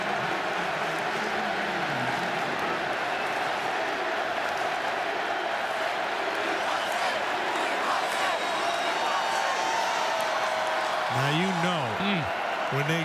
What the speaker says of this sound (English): cheering for when you hear the call for defense, that's a well-schooled crowd